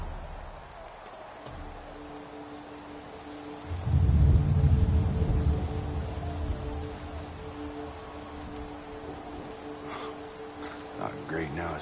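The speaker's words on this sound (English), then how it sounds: "Great, now it's raining." Rain and thunder in a football video game: a steady rain hiss runs throughout, with a louder rumbling surge of thunder partway in and a low tonal game hum underneath, no speech.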